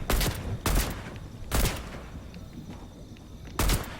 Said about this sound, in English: I'm gonna get my AR ready here and shoot that guy